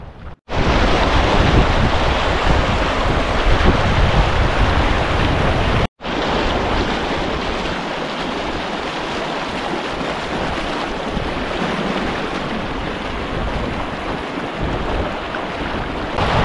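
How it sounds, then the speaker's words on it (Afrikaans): Flash flood water rushes through a normally dry riverbed in the Namib, a loud continuous roaring wash with heavy wind buffeting the microphone, a brief cut partway, no voices. "'n Kitsvloed het skaars 15 minute gelede deur 'n gewoonlik droë rivierbedding afgekom, 'n plek waar water selde indien ooit vloei."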